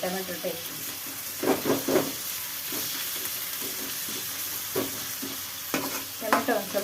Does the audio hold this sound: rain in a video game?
no